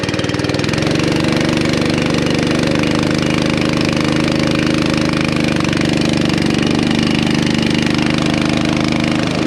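A small engine catches and settles into a loud, steady, rough-running chug that continues unbroken throughout, close to the listener.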